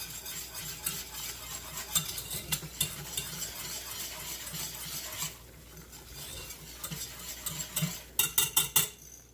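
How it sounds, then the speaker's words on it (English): A whisk clatters and scrapes inside a pot while mixing a sauce for cheesy scalloped potatoes with ham, quick rhythmic metallic stirring with a short pause midway and a burst of sharper taps at the end. "Get my handy whisk"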